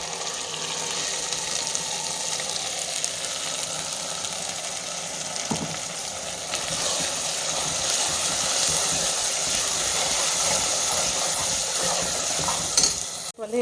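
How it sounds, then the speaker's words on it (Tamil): Ground masala stir-fried with ginger-garlic paste in a pan for Chettinad chicken curry, giving a steady, close sizzle with continuous scraping of the stirring spoon throughout and a brief clatter near the end. "இப்போ நம்ம அரைச்ச மசாலாவை இதோட சேர்த்துக்கலாம்."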